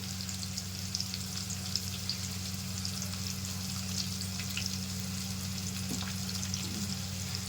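Onions frying for dal give a soft, even sizzle over a constant low hum, with a faint clink near the end and no talking.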